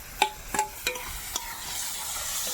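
Tomato, ginger-garlic, cumin and green chilli pastes sizzle in hot oil for a lentil and fish curry, with a steady hiss under a few sharp clinks of a utensil against the pan early on.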